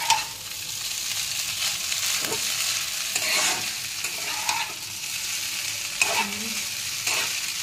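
Chowmein with a fried egg being stirred and tossed in a hot pan, a continuous soft sizzle under repeated scraping strokes of a utensil, close and fairly quiet.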